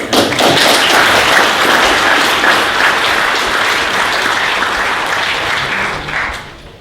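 Audience applause fills a demo day event room, a dense steady wash of clapping from many hands that holds strong before tapering off at the end.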